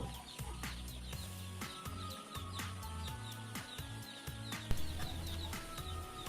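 Young broiler chicks (day-old birds) peep and chirp continuously inside a coop near water nipple drinkers, a dense busy chorus of many birds at moderate level with no talk.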